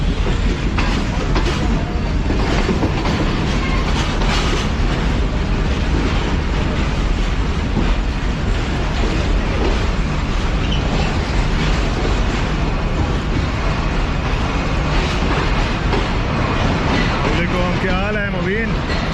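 Tezgam passenger train in Pakistan, running from Lahore toward Karachi with a locomotive, fills the whole stretch with loud steady rumble and rattling wagon noise, a faint whistle-like tone near the end.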